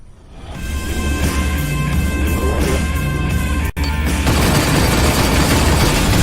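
Enemy turrets firing in the space combat game Rebel Galaxy Outlaw, a dense, loud, sustained barrage of rapid shots and booms with a brief gap, and no talking.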